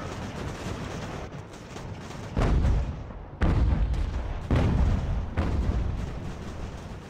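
Musket volleys and artillery fire from a battle in the Ultimate General: American Revolution strategy game, a dense continuous rumble punctuated by several heavy booming blasts, loud and close, with no talking.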